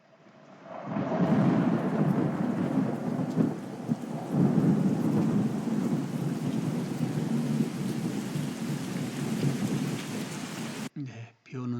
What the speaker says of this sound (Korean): 레인, 비 오는 소리.